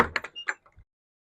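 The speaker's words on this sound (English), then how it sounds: "Let me open the door and I'll show you how that works." An old wooden shed door, long used as a tool house, swings open after its locking pin is pulled: a short cluster of close knocks and a creak, then quiet.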